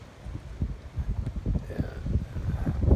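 Wind gusting across an open cattle pasture outdoors, a low rumbling buffet against the microphone that swells and surges unevenly throughout, with no voices.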